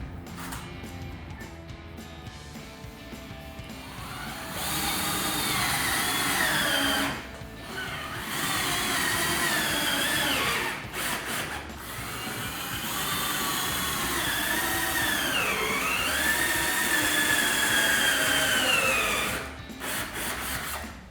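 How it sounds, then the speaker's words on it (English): A power drill bores holes into a pine board for a Jeep Wrangler JK hard top hoist, its sustained grinding whir running for long stretches with brief pauses. "So we're going to go ahead and drill those holes."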